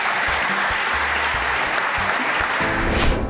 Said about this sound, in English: And to all the presenters, a round of applause for them.